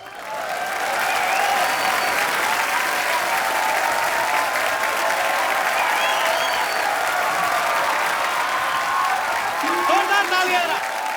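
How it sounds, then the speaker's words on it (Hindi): Loud, sustained applause from a TV studio audience on a comedy talk show greets a guest, a dense wash of clapping that holds steady for about eleven seconds with a few cheers rising near the end. "जोरदार तालियां।"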